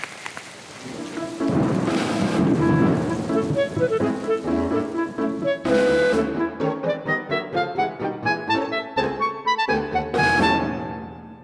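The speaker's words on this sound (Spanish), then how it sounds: "ya está lloviendo" Rain falls steadily with bursts of thunderlike noise, mixed with prominent musical tones and rhythmic plucked notes, loud and continuous throughout with no speech.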